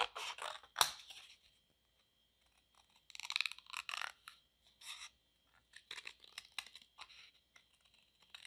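Scissors cutting out a shape traced on thin cereal-box cardboard for a mini cup craft, quiet close-up snips in short bursts separated by pauses, with no talking.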